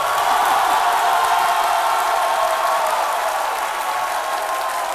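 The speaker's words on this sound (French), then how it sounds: "je vous demande de l'applaudir." A television studio audience applauds steadily for a few seconds, dense even clapping close to the microphone without any talk.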